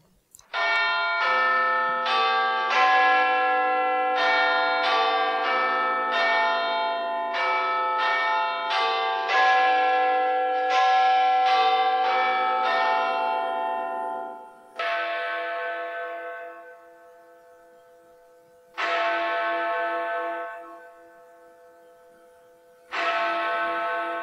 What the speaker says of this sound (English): This is called the bell of mindfulness.